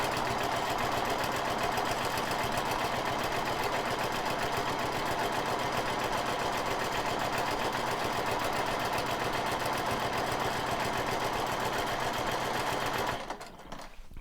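A sewing machine runs in a steady, fast continuous whir while free-motion quilting swirls into a mandala quilt, loud and close, stopping abruptly near the end.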